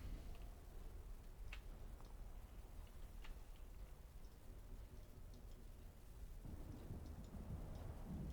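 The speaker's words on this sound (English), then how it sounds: "every time I hear that I think there's a thunderstorm going on in my neighborhood" Thunderstorm ambience in City of Heroes: steady rain hiss with low rumbling thunder swelling near the end, plus scattered faint ticks, with no speech.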